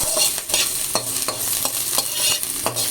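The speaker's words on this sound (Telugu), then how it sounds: "తిరగమాట కొంచెం వేగిన తర్వాత మనము గుగ్గులు పోసుకొని కలబెట్టుకోవడము" Black-eyed peas being stirred into a frying tempering in a pan: loud, close sizzling with repeated scraping strokes of a spoon at an irregular beat, no talking.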